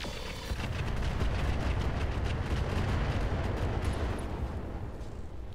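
Mech weapons, mortars and tandems, firing in the BattleTech RogueTech game, a continuous dense roar of booming shots and explosions that stays loud for several seconds with no one talking.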